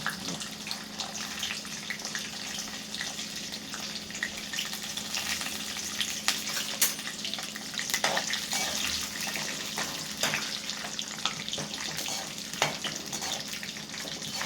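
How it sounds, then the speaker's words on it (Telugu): Peanuts fry in hot oil in a pan with mustard seeds and cumin, giving a steady, dense sizzle with light stirring scrapes throughout and no voices. "ఫస్ట్ పల్లీలు వేయాలి. పల్లీలు వేగుతాయి."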